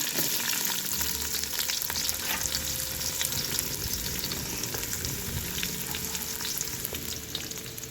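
Onions fry in hot oil with a continuous, dense sizzle and crackle, occasionally stirred, close and steady with no voices.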